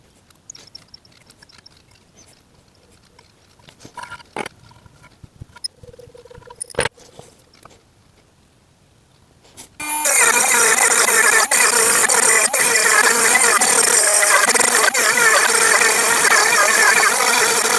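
Scraping and grinding work on a Carter AM6 engine crankcase: a stretch of quiet, sparse clicks and taps, then a loud, continuous, harsh grinding whine that runs steadily to the end with brief dips.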